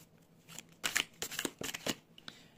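Tarot cards drawn from a deck and handled during a reading, with a quick run of crisp, close slapping and sliding card sounds in several bursts and no talking.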